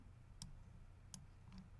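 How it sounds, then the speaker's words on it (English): Three faint, sharp mouse clicks come at uneven intervals over a quiet background hum, each a single crisp tick. "So I'm going to click my toggle switches and modes."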